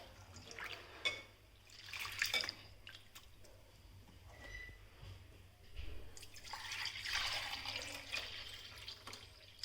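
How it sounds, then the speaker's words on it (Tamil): Soaked chana dal lentils washed by hand in water, with close splashing, swishing and dripping in uneven bursts over low background noise. "இதை நல்லா கழுவி ஒரு 1/2 hour ஊறட்டும்."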